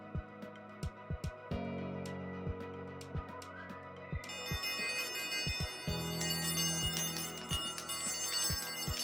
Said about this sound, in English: I got this from it, and it's like a little bell.